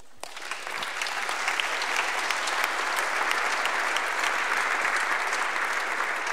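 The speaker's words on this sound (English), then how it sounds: "Thank you for the applause." Sustained applause from a conference audience at the close of a keynote panel on green coding and sustainable software, steady dense clapping that starts abruptly and fills the room at moderate distance.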